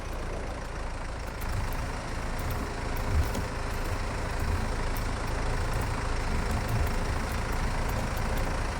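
A tractor engine in Farming Simulator running at a steady, loud, continuous drone with a low rumble and constant broadband noise, heard alone without talk.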